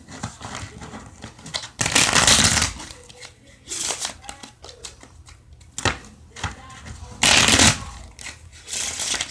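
Crisp riffling bursts of playing cards being shuffled, several quick rounds spaced a few seconds apart, close up, with faint voices and rustling between.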